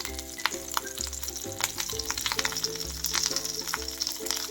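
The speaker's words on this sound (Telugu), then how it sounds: "ఒక్క స్పూన్ ఆయిల్ వేసుకుని కొత్తిమీర వేసుకుని కరివేపాకు వేసుకోవాలి" Coriander and curry leaves hit a spoonful of hot oil and fry with a loud, crackling sizzle, close up, with busy spitting pops and stirring throughout.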